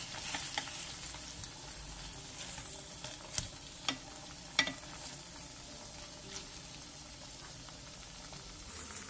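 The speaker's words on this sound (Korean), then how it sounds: "두부가 앞뒤로 노릇노릇하게 구워졌으면 양념장을 넣어주세요." Tofu pan-fries in a Korean home kitchen with a soft, steady sizzle and crackle, broken by a few sharp clicks and taps from a utensil against the pan.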